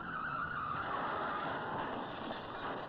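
A Spitfire fighter brakes hard and skids across grass on landing, giving a steady, loud scraping hiss with a faint tonal whine running unbroken throughout.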